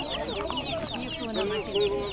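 Chicks for sale at an old bazaar in Karaozek cheep and cluck in a busy chorus of overlapping high calls, close by, with faint market noise around them.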